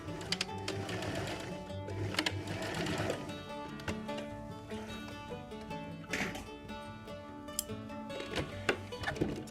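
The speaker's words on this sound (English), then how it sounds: "Foot back down, turn, sew up the end." Sewing machine stitching the end of a DIY fabric face mask around a pipe-cleaner nose piece, a fast close mechanical whir with short pauses and bursts, no speech.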